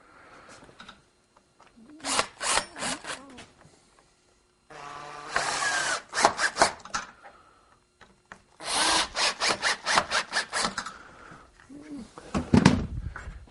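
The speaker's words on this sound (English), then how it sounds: "Take my screw gun right here." A screw gun drives a screw into a wooden stop in a woodworking shop, with several short whirring bursts and a longer grinding stretch separated by brief pauses, loud and close with no talk.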